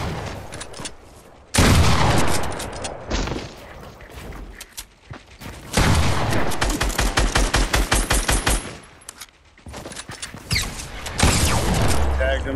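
Automatic gunfire from a Fortnite match, heard in several loud, dense bursts of rapid shots with short gaps between them, while a player talks over the action.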